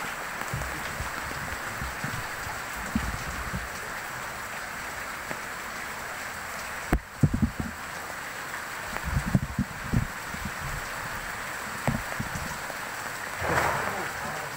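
Steady rain pours outdoors beside a tilapia fish pond, a constant dense hiss throughout with occasional nearby thumps and rustles, and faint voices now and then.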